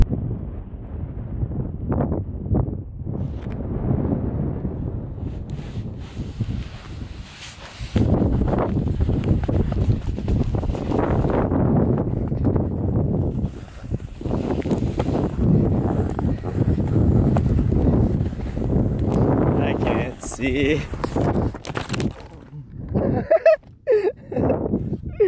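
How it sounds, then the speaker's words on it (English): Strong wind at a camping spot buffets the microphone with a steady, loud roaring rumble that lasts the whole time, briefly dropping and then surging again, with a voice faintly present. "very windy here."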